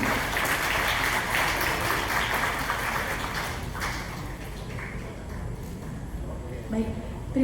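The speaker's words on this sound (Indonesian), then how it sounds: "Tepuk tangan semuanya." Applause from an audience at an Indonesian medical association ceremony, a sustained wash of clapping under talk and crowd noise that fades slightly toward the end.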